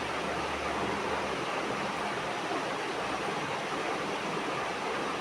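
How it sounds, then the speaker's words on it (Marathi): Water at a rolling boil in a covered pot of peanut curry, a steady dense bubbling rush that holds evenly throughout, close and fairly loud with no talking. "झाली, उकळी आली."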